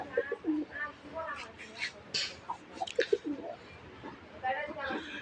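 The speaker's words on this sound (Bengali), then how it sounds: "আবার ডাক শুরু হয়ে গেল" Pigeons coo in short bursts close by, mixed with someone talking throughout.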